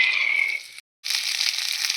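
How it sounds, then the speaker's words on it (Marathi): Green pigeon pea pods fry in oil in a kadai, giving a close, steady hiss and sizzle that drops out briefly and then returns, stronger and brighter, with no talking. "आता आपण गॅसवर कढई ठेवलेली आहे त्यात थोडंसं तेल टाकू त्यात तुरीचे सोले"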